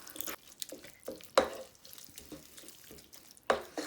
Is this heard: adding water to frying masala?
yes